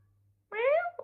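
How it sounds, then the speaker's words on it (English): A single short, rising-then-falling meow from a house cat, close by and fairly soft, following a brief quiet moment and ending with a small soft sound. "My cat's just meowed."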